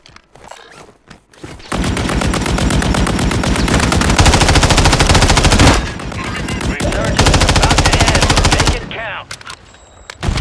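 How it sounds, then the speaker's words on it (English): Sustained automatic weapon fire in a Call of Duty match, long dense bursts of rapid shots loud and close, with a brief break midway and scattered single shots at the start and end. "I'm taking fire."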